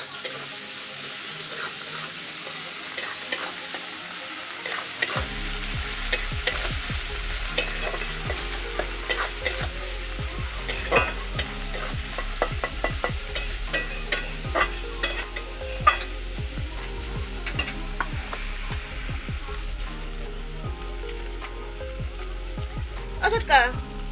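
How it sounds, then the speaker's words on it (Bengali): Chopped onions frying in a pan, a continuous sizzle after a short quiet start, overlaid by frequent clicks and scrapes of stirring, close by, with some background voices murmuring. "পেঁয়াজটাকে আমি হালকা করে ভেজে নেব।"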